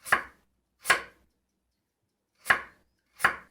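A kitchen knife slicing onions very thin on a cutting board, heard as four crisp, isolated chops close up, with irregular gaps between them in an otherwise quiet room.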